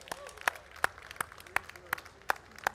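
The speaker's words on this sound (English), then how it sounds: "a round of applause for Ramsey for those bid spotting acrobatics" Sparse, evenly spaced claps at a Broad Arrow classic car auction in Chattanooga, Tennessee, likely a single nearby pair of hands beating slowly, roughly three claps a second, over a faint room background.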